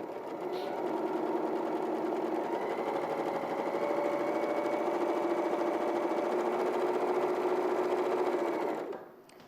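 A sewing machine runs steadily, stitching a straight seam from a pointed fabric edge, its rapid mechanical whir holding even for several seconds before stopping abruptly near the end.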